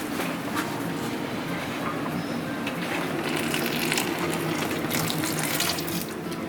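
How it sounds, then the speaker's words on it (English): Hot water poured steadily into a pot of flour for dough in a sailboat galley, a continuous close splashing rush that runs unbroken throughout with no talking. "I'm making my handy dandy assistant pour in the hot water into the pot"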